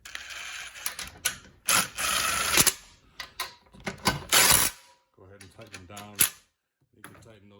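Ratchet wrench clicking in uneven bursts while 15 mm bolts are run down on a 2014-2018 Silverado seat backrest fitted into a 1988-98 Chevy extended cab truck, close and loud, with someone talking near the end.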